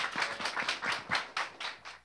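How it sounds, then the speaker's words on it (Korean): A small forum audience claps for two speakers, sparse individual handclaps at close range forming an uneven, fairly quiet rhythm rather than a dense wash, fading toward the end. "여러분 두 분께 다시 한번 큰 박수 부탁드립니다."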